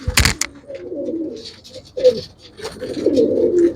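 Pigeons cooing close by in soft, repeated throaty calls, with a sharp clatter at the start and brief faint background noise between the coos.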